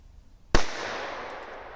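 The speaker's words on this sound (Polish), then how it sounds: "Gram na petardę, tak? No to powinno dosyć strzelić." A small firecracker, a Helium P1217 with about one gram of charge and no flare, bursts outdoors in a single sharp bang. A long echo trails away after it.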